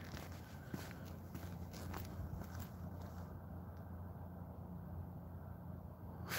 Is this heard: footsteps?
yes